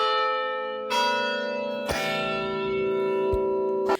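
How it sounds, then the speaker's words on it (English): Church bell tower ringing close by, several loud, sustained rich strikes overlapping into a long shimmering hum, with a few sharp knocks between them. "up for a good day of recording is to not sit next to a bell tower."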